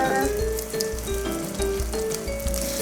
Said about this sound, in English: This one's going to fry really fast.